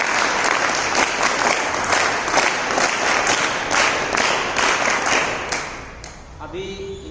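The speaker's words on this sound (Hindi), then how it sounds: "तो एक बार तालियां वेद मित्र जी के लिए भी।" Sustained applause from an audience at a Gurukul gathering in Malakpet, Hyderabad, for the teacher Ved Mitra, loud and dense clapping that fades out near the end.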